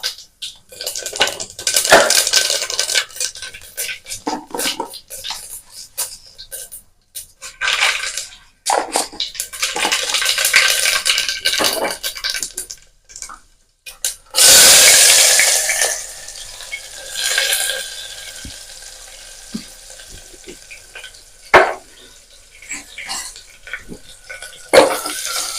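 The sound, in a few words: tempering cumin, mustard seeds and curry leaves in a pan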